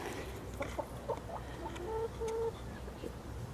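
Young hens in an urban chicken coop give short, soft clucks and a few longer murmuring calls, close by over a low, steady background hum.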